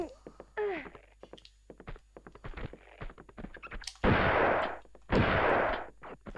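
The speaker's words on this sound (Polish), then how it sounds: "Szczura zabiłem z shotguna" A shotgun in Tomb Raider II fires at rats, two heavy, loud blasts close together with short decays, between other game noises and clicks.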